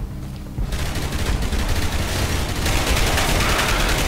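Dense, sustained gunfire from the game Dark Sector comes as a loud, continuous stream of rapid shots that grows even heavier partway through.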